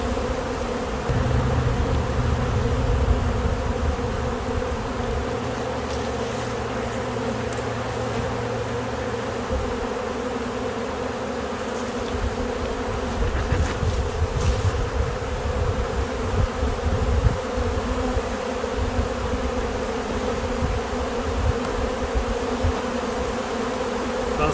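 Honeybees from a large queenless colony swarm around an opened hive in spring, a dense, continuous buzzing drone close by, steady in loudness with a low hum beneath.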